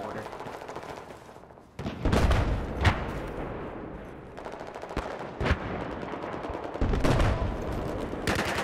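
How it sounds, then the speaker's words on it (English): Mortar fire in Battlefield 4, with heavy thumping blasts landing a few times amid rattling gunfire, each impact loud and sharp against a dense battle din, with some speech underneath. "Definite mortar."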